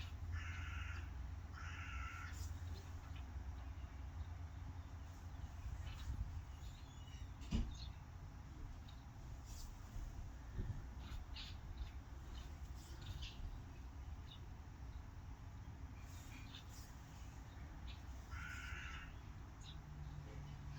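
Crows caw repeatedly in short raspy bursts from a bird sounds channel played on a speaker, faint and steady against a low background hum, with no talking.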